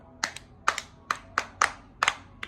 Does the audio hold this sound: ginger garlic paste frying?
no